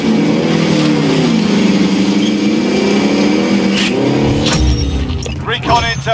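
A car drives in a Call of Duty Warzone match, its engine droning and rising in pitch as it accelerates, loud and close, with game sound effects and voice chatter layered over it.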